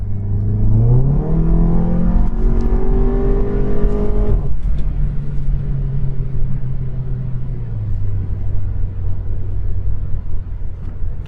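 A modded 2016 Volkswagen GTI MK7 engine revs up through rising gears with its dual-clutch transmission, then shifts and settles into a steady, loud drone as the car drives on.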